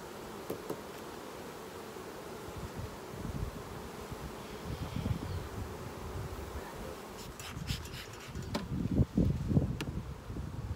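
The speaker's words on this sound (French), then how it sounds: "Deuxième ruche que j'inspecte." Honeybees buzz as a steady, fairly soft drone while a hive with no brood, eggs or larvae and apparently no queen is opened for inspection, with rustling and a few louder knocks near the end.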